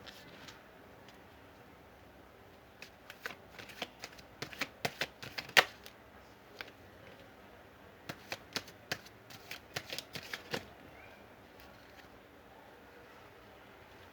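Tarot cards being shuffled, a soft run of quick crisp riffling flicks in two bursts, fairly close and quiet against a faint background.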